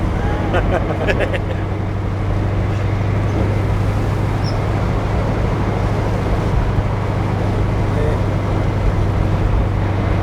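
A Holden HJ Monaro GTS's steady, low engine drone with a deep exhaust rumble runs continuously throughout, loud and close, with faint voices underneath.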